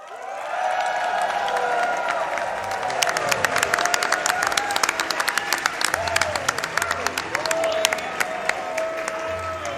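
A convention audience at a live speedrun charity event bursts into applause and cheering, building after a few seconds into dense sharp clapping with whoops, while voices carry on over it.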